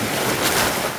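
Sea waves washing onto Kovalam beach in Kerala, a steady broadband wash of surf with a swelling surge midway, close and loud with some wind noise across the microphone.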